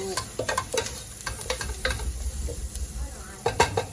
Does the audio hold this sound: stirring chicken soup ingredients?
yes